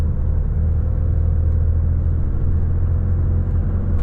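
A Volvo FH 540 truck engine drones under load while climbing a hill, a steady, close, loud low rumble that holds constant throughout with no voices.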